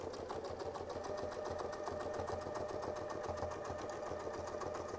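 Sewing machine stitching steadily along a fabric edge, a fast, even mechanical whir and rapid needle chatter running continuously at moderate level without speech.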